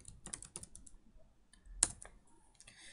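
Keys tapped on a computer keyboard while entering a Linux terminal command, a few soft scattered clicks with one sharper keystroke, faint and close in a quiet room, no speech.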